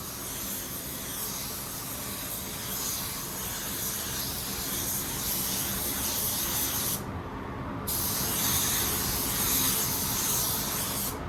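A paint spray gun lays coats onto a car fender as a loud, steady, close hiss that runs almost throughout, broken by a brief pause partway through.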